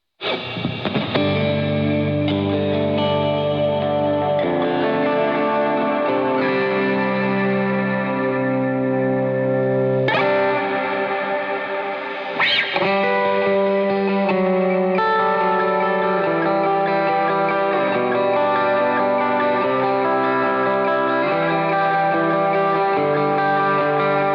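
Sustained electric guitar chords ring out through a loud amp with a cathedral reverb effect, drenched in long, washy reverb that lets each chord bleed into the next.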